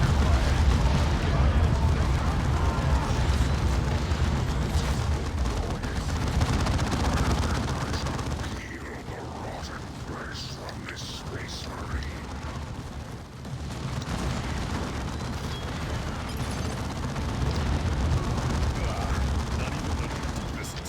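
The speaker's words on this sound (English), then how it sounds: "I will send another bomb on it. Yeah, I'm doing a bombardment myself." Artillery bombardment in the Dawn of War 2 strategy game, a dense, continuous roar of explosions and gunfire that dips briefly midway before building back up, heavy and close throughout.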